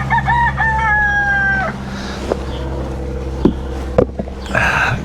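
Farm chickens sound off close by, a rooster-like crow at the start followed by scattered clucks and small knocks, with a steady low background hum throughout.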